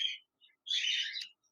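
A pair of caged cockatiels, an albino red-eye and a lutino red-eye, giving a couple of short, faint chirps followed by a longer shrill call, nearby and with no talking.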